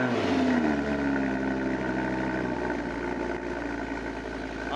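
A V10 supercar engine fires up with a deep rumble and settles into a loud, steady idle close by.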